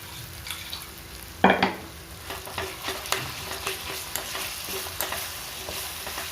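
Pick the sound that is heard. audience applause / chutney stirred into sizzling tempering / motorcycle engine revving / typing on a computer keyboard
chutney stirred into sizzling tempering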